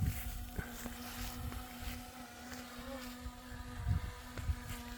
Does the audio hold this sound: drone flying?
yes